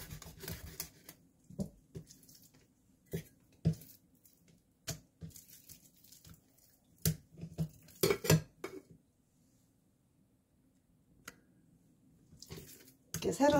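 A knife cuts skate (hongeo) lengthwise on a board, giving scattered sharp knocks and taps at an uneven pace, close and fairly quiet, with someone speaking between the cuts.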